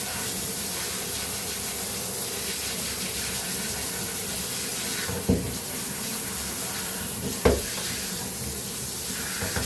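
Pressure washer blasting plain hot water at maximum pressure while cleaning a 6.4hp 4910, a steady loud hiss with two brief sharp knocks partway through.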